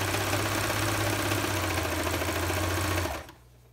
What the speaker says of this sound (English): So now I'm just serging off the excess.